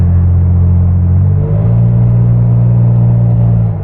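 A loaded Toyota Tacoma pickup fitted with a pedal commander accelerates with a loud, steady engine drone heard from inside the cab, and the pitch steps up partway through as it gains speed.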